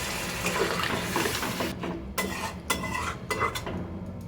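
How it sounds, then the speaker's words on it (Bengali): A shrimp and vegetable curry with potatoes and a little added water, stirred with a spatula in a pan. Sharp metallic scrapes and knocks repeat over a soft bubbling simmer. "এবার খুন্তির সাহায্যে খুব ভালোভাবে মিশিয়ে নিলাম"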